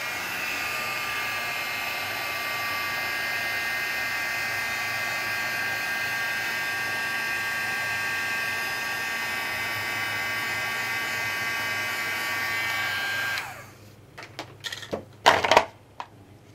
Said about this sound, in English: Or you can use a heat gun to accelerate it.